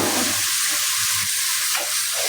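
Onions and red chilies fry in ghee for a kadhi tadka, giving a steady, close, loud sizzle and hiss that runs throughout with no voices.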